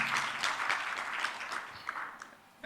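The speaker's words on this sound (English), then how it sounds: "let's first of all give a round of applause to Neveen for a good presentation" Audience applause after a presentation at a pharmaceutical AI summit, a steady wash of clapping that holds for a couple of seconds and then thins out, with a few scattered claps near the end.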